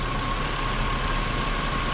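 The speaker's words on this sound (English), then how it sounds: "the cooling fans just kicked on" Car cooling fans whirring steadily under the hood of an idling engine after a suspected coolant air pocket behind the thermostat, a constant dense broadband roar with a faint steady tone, close and unbroken.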